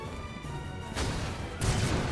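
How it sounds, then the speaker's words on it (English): Rocket impact striking Wesker in a video game, heard as two short crashing booms a little under a second apart over a low rumbling background, fairly loud with no voices. "I'm gonna hit him with a rocket."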